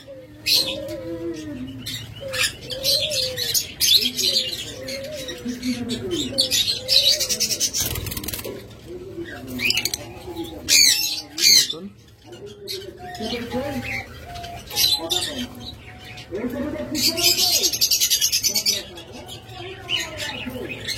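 Pairs of parblue lovebirds chirp and squawk steadily in a bird shop, a dense mix of overlapping calls with cooing pigeons or doves in the background.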